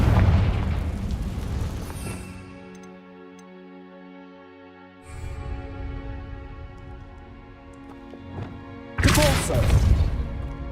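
A Confringo fire spell in Hogwarts Legacy bursts as a booming explosion, with a strong blast at the start, another around the middle and a sharp loud burst near the end, separated by quieter, humming stretches.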